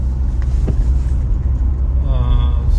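Road noise inside a Mitsubishi Pajero Sport 2 cruising at 60 km/h before sound insulation is fitted: a steady, heavy low-frequency rumble and tire roar, constant and close.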